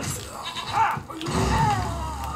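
A goat in a video game bleats twice in quick succession, a wavering nasal cry, while a person talks over the game audio.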